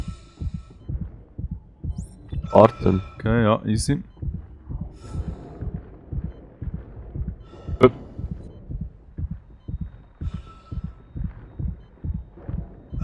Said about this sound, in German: der Herzschlag verratet schon noch etwas